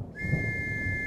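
A single steady whistle blast sounds in an Arma 3 game session. It holds one long, unbroken pitch for about a second, clear over low background rumble.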